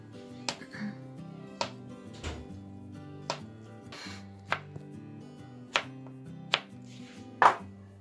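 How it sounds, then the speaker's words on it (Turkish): A knife chops dark chocolate repeatedly on a cutting board, about eight sharp, evenly spaced knocks over a quiet background. "Bitter çikolatayı en son doğrayayım ya, dizdikten sonra doğrayayım"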